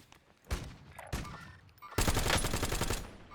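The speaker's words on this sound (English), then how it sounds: "Again, guys, unsuppressed shooting." Unsuppressed gunfire in the video game Warzone: a couple of sharp single shots, then a loud sustained automatic burst, close and harsh.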